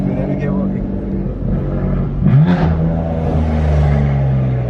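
A BMW M3 exhaust burbles and revs as the car drives, with a throaty rising rev near the middle over a steady engine drone, close and loud, while people talk over it.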